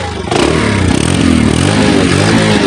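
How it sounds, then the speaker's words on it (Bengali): A Runner Kite Plus 110cc motorcycle engine starts up after a brief quiet moment, then revs loud and close with a rough, rattling mid-range drone that holds steady. "ইঞ্জিনের সাউন্ড দেখেন, ইঞ্জিনের সাউন্ডটা কিন্তু অনেক সুন্দর বন্ধুরা"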